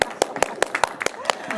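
Clapping for a speech contest contestant, a small group striking sharp, evenly spaced claps at close range, about eight in a row, with voices talking between them.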